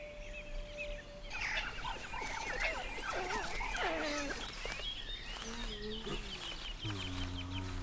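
A wolf mother barks out an alarm call as a black bear wanders into her pack's range, giving a series of harsh, fairly loud barks and yelps that rise over a steady wild outdoor background.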